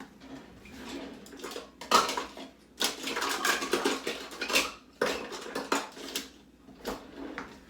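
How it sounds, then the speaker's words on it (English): Metal kitchen utensils clatter as a coarse adjustable Microplane grater is grabbed, a string of close rattling clinks and knocks in irregular bursts, no talking. "Let me grab my grater"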